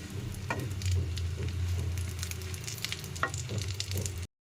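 Fish roe (macher dim) fries in a pan with a dense, steady sizzle and occasional crackles, close and fairly loud, then cuts briefly to silence at the end.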